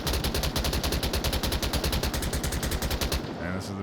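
A light machine gun lays down suppressive fire in the VR shooter Onward during a competitive league match: a loud, rapid, unbroken stream of shots for about three seconds, then it stops.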